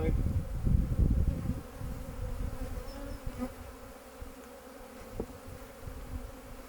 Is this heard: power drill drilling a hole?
no